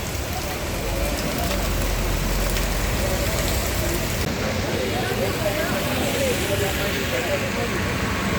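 Heavy rain pours down in Chikmagalur, a dense, steady roar of rainfall that stays loud and unbroken from start to finish.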